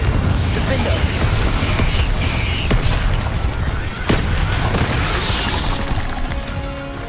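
Spell-casting effects from the video game Hogwarts Legacy: a loud, busy stream of magical blasts, cracks and crashing impacts, with sharp bursts standing out over a constant roar.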